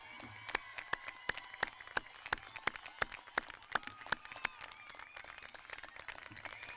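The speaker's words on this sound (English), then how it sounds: "please join me in giving all these people a huge round of applause" Applause at a high school graduation ceremony, heard as sharp, evenly spaced claps close by, quiet overall with a soft crowd murmur beneath.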